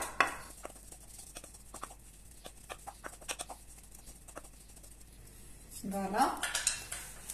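Wooden spoon mixing flour into quiche dough in a bowl, soft repeated scraping and tapping strokes close by, with a brief spoken word near the end.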